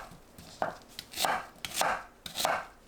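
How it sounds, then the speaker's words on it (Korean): A knife cuts pear and onion into large chunks on a cutting board, several crisp chopping strokes landing at a steady, unhurried pace in an otherwise quiet kitchen. "배, 양파를 믹서에 갈기 좋은 크기로 큼직하게 썰어주세요."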